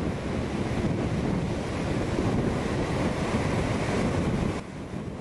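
Sea waves surge steadily along a dangerous Gujarat seashore with a strong current, a loud continuous roar of surf mixed with wind buffeting the microphone, easing slightly near the end.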